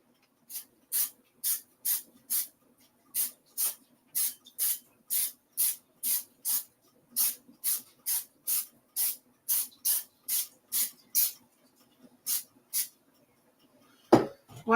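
Cooking spray hisses onto a nonstick pan in about two dozen short, sharp bursts, evenly spaced and close, with a brief clatter at the end and no speech.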